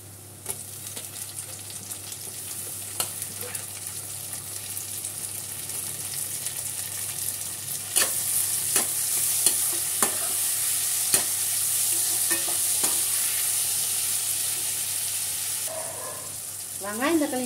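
Onions and tomatoes fry in a pan while being stirred, a moderate sizzle under repeated sharp scraping and knocking strokes of a spoon against the metal, growing slightly louder partway through.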